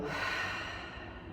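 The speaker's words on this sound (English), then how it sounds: "Let's take a cleansing breath together in through the nose. Open mouth, exhale." A single long, steady open-mouthed exhale during a yoga flow, a soft breathy rush that holds close and clear for over a second, with no talking over it.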